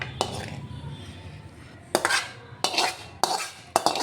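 A plate being handled while dishes are washed in a home kitchen, giving several sharp clinks and clatters in quick bursts, close by and fairly loud, with quiet pauses between them.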